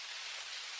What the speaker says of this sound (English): It's getting rained on.